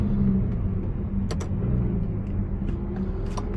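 A Lamborghini Huracan Evo Spyder supercar in Strada mode rumbles along at a low, subdued engine note, close and steady with a couple of brief clicks and no speech.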